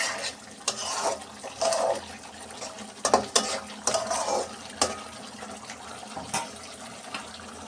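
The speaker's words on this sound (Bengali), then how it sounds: "ভালো করে নেড়ে চেড়ে নেব।" A spoon scrapes and stirs egg curry (dim bhuna) in a pan, soft irregular clinks and wet shuffling scrapes at close range, fairly quiet with no talking.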